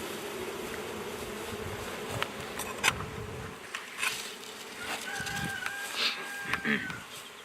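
A dense, steady buzz of many bees fills the air around an open hive during an inspection of a newly settled swarm, close and continuous, with faint voices in the background.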